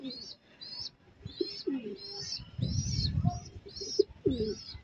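Racing pigeons returning at the end of a 60 km race from San Pablo, Laguna, coo and chirp repeatedly over a nearby rustle of wings, with a faint voice speaking now and then.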